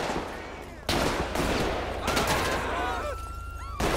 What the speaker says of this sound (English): Shot fire on an officer.